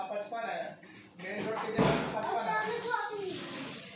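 A household door slammed shut at home, one loud broadband thud near the middle, with children and an adult talking over it.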